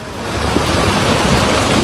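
A flash flood torrent in Agam swollen by heavy rain, carrying chunks of wood and large boulders, roars as a loud, steady, unbroken wash of rushing water from start to finish.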